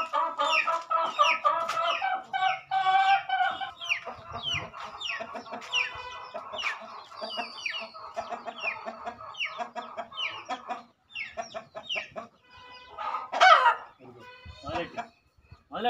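A hen clucks repeatedly in a home setting, a busy run of close, fairly loud clucks and squawks that continues almost throughout, with a person talking over parts of it.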